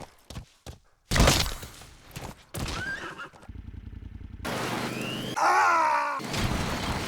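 D-Horse, the horse in the video game Metal Gear Solid 5, lets out loud whinnying neighs amid hoof clatter and game effects, with bursts of sound separated by short quiet gaps.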